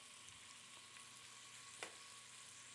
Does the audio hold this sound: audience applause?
no